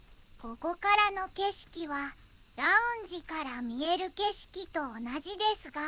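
Cicadas drone in a steady high shrill at the Yashio Onsen Shinsuikan hot-spring inn in Gunma, unbroken beneath a person talking the whole time.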